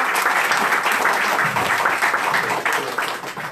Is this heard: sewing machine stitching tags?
no